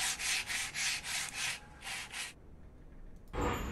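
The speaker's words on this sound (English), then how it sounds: "Sandpaper it is" Sandpaper scrapes off ice in a hidden-object puzzle game, with eight or so rhythmic rasping strokes in steady succession, then a quieter pause and a final bright swoosh.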